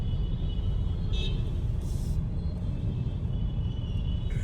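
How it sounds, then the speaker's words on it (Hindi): Heavy, jammed road traffic on a drive from Gurgaon to Delhi makes a constant low rumble, punctuated by a couple of short car-horn toots from nearby vehicles. "सॉलिड ट्रैफिक आ रहा है।"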